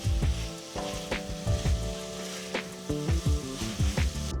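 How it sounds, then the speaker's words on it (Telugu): Large potato pieces fry in hot oil for a veg paya dish, a steady close sizzle under repeated knocks and scrapes of a spoon or spatula against the pan. "వీటిని 2 నిమిషాల పాటు వేపుకుందాం."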